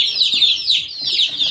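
Baby chicks peeping constantly, a dense chorus of high, shrill chirps close by, with no talk over them.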